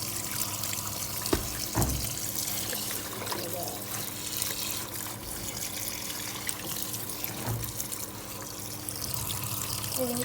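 A Samsung Activewash+ washing machine fills with water during a Quick Wash cycle, a continuous rushing trickle into the drum with a few knocks and a faint background hum.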